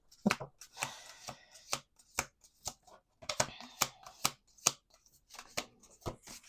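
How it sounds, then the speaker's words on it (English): Tarot cards are shuffled by hand on a table, giving a sequence of crisp, irregular riffles and sharp taps at close range with no talking. "we're going to do 2 more shuffles"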